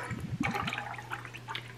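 V8 vegetable juice glugs and splashes as it is poured into a tequila brunch cocktail, a close liquid gurgle over about two seconds with no talk.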